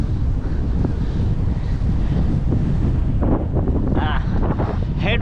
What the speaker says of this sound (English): Headwinds, the worst wind there is.